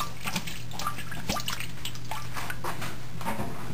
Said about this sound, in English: I'm putting it in a strainer so that any wax that is in the slum gum, it'll drip out.